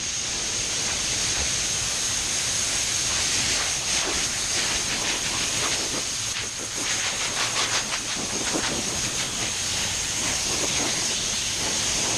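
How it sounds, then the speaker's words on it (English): Air blower drying fresh paint on a small car quarter panel, a loud, steady rushing hiss with a thin high whine that fluctuates slightly midway and runs alone without voices. "I'm going to dry this with the blower"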